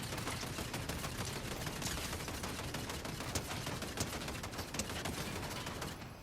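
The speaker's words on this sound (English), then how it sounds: "So I'm going to try to shoot them with the turret." Rapid turret gunfire in Fortnite, a dense continuous rattle of shots that stays loud and steady throughout, with no talking.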